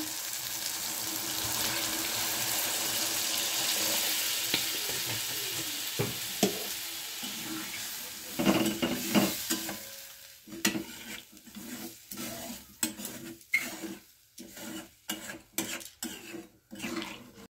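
Masala for a fish curry sizzling loudly in a pan, then water is poured in and the steady hiss breaks into sharp bursts of spitting, bubbling and scraping, near and without talk.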